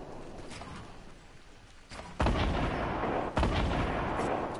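Gunfire in a shooter video game rings out as loud booming shots, with two heavy blasts standing out over a steady wash of battle noise.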